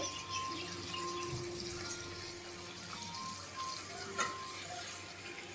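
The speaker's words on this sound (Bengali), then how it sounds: "আর সামান্য একটু জল দিয়ে দিচ্ছি।" Water poured into a pan of potato and poppy seed curry (aloo posto), a quiet running trickle lasting several seconds, nearby and faint, with no talk.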